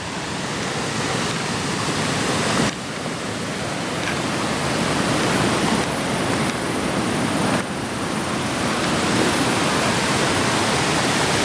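Water rushing steadily down a small chute at the inlet to Shadow Lake, a loud, continuous broadband roar that runs unbroken and close by, with no voices over it.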